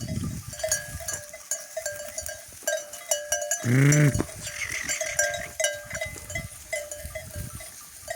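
A sheep flock grazing at dusk, with a clear bleat rising alone near the middle amid steady outdoor ambience and scattered softer animal sounds.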